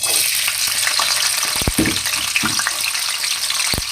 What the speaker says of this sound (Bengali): এখন আমি বাদাম ভর্তার জন্য যে পেঁয়াজ আর রসুনটা কাটছিলাম সেটা ভাজবো